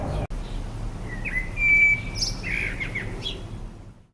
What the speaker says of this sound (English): The male song is a varied and melodious, low-pitched warble given from trees, rooftops or other higher perches